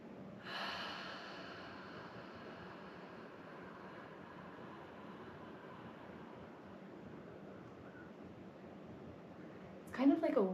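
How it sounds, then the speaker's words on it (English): Ujjayi yoga breath drawn in slowly through the throat during a guided throat chakra flow, a long steady whispery hiss that lasts several seconds, with a brief louder rustle at the end. "And then exhale everything out using that victorious ujjayi breath."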